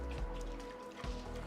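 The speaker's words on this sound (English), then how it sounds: "Do want to wring this chamois out." Water dripping and spattering from a wrung-out chamois in a pottery studio, a couple of close, soft splashes.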